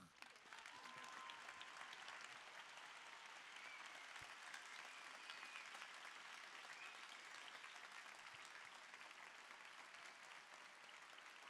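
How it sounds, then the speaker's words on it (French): Audience in the Salle Pleyel concert hall applauds at a charity concert, a sustained, even roar of many hands clapping for over ten seconds, heard quietly from a distance. "Applaudissements à nouveau pour Monsieur Ivar."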